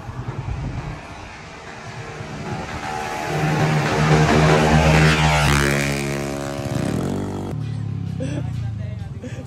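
Loud engine revving from an RS8 motorcycle with a full CVT setup, rising to a high whine and then dropping back to idle, with wind noise.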